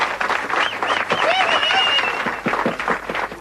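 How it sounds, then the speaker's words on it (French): Audience applause breaks out at an anniversary event for the French television channel La Cinq, a steady wash of clapping from a crowd that fills the whole clip. It sounds moderately close, with voices mixed into it. "ces applaudissements, ils sont pour vous"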